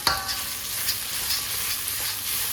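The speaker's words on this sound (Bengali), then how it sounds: "এখানে মশলা কষাচ্ছি" Spice paste of cashews, raisins, tomato, ginger and chillies sizzling and being stirred in a pan for a potato and pea curry, a soft, steady frying hiss with light scraping.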